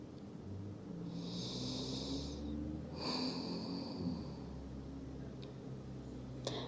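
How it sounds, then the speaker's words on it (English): Deep, slow breathing by someone resting the forehead on a mat during a Pilates stretch: long breathy inhales and exhales, close and soft, with no talk. "Take some deep breaths."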